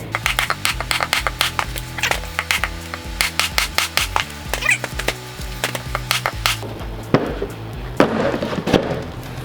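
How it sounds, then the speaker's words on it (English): An epoxy and walnut charcuterie board is worked out of its mold without mold release, giving a close run of sharp cracks, pops and rubbing scrapes that grow rougher and noisier toward the end. "let's see how easy it is to demold this project from the mold"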